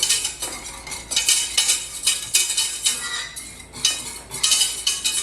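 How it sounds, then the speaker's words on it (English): Whisk scraping rapidly around a metal pan as flour is worked into melted butter, bright rhythmic clinks and swishes in quick repeated bursts, close and clear with no talking. "my butter is all melted, so I'm going to add my flour. And I'm going to whisk it together."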